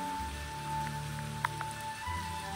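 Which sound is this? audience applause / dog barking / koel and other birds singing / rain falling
rain falling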